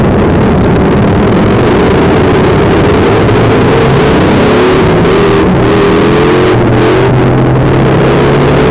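Harley-Davidson motorcycles roar along a highway, a loud, sustained engine drone with shifting revs and rising pitch as they close in, continuous throughout with no talk.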